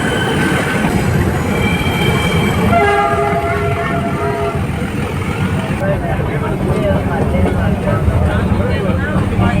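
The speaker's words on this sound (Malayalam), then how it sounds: "കൂനൂർ വരെ കുത്തനെയുള്ള മല കയറി വനത്തിനുള്ളിൽ കൂടിയാണ് ട്രെയിൻ സഞ്ചരിക്കുന്നത്" The Ooty mountain train climbs steep forested hills toward Coonoor, its wheels rumbling and squealing loudly and continuously on the rails while a long horn sounds in the middle and a voice talks over the din.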